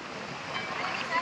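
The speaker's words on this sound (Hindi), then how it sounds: "क्या कितनी तेज हवा है" Strong wind blowing on an open mountainside near Badrinath temple, a steady broadband roar that rises slightly toward the end, with a voice faintly present beneath it.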